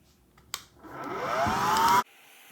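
Miele Triflex HX1 cordless stick vacuum switched to maximum power, a sharp click followed by a rising motor whine that builds steadily for about a second and a half, then cuts off abruptly.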